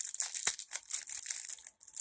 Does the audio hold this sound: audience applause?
no